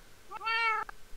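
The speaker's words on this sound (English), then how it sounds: "I'm just going to go find my cat." A cat gives a single clear, rising-then-falling meow, close and distinct, over quiet outdoor background.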